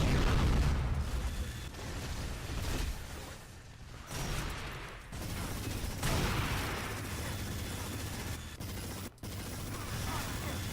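A minigun fires in the arena shooter Unreal Tournament, with dense rattling bursts and booming blasts in loud, uneven spurts and brief gaps between volleys.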